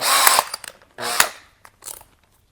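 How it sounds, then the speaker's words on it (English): A two-speed drill driver spins a drill bit in short bursts, three quick whirring runs that start and stop abruptly, close and loud with nothing else around them. "the drill turns and we are able to push it through material"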